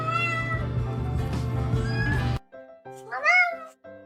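A domestic cat meows loudly and insistently, first over a burst of background music, then alone as a series of drawn-out rising and falling meows close to the listener.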